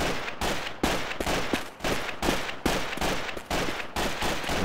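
Rapid bursts of gunfire in Garry's Mod, a dense run of loud repeated shots at a steady rhythm, close and continuous without talk.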